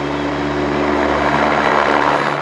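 Helicopter taking off from the Sirsi helipad on the route to Kedarnath, a loud, steady rotor and engine roar with a constant whine, close by and filling the whole clip.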